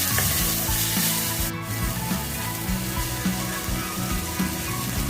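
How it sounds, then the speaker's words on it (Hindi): Spices such as turmeric and coriander powder being stirred into a hot pan for samosa chaat, a continuous sizzle with repeated scraping strokes of the spoon, close and steady. "सबको अच्छे से मिक्स कर लेंगे"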